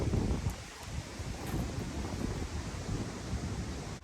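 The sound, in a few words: strong wind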